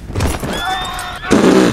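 A horse in the Red Dead Redemption Western video game whinnies loudly and close, a long wavering neigh followed by a second burst of snorting and whinnying, with faint hoof clops underneath.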